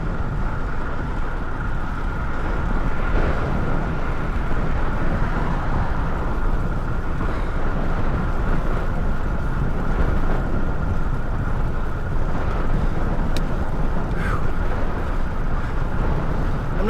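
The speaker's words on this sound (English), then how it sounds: "Really a lot of wind right now." Strong wind blowing across open fields during a bike ride roars steadily as a dense, loud rumble that buffets the microphone continuously, with no speech.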